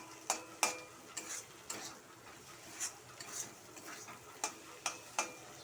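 Chow mein being stir-fried in a pan, with repeated sharp scraping and tapping strokes of a spatula against metal over a faint sizzle, spaced irregularly at close range.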